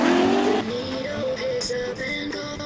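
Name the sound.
drift car spinning out onto the infield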